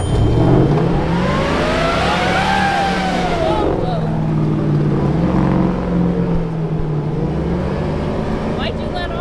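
A four-wheel-drive vehicle revs hard on an off-road run, its engine loud and close with rising and falling pitch under steady rumble, while people talk over it.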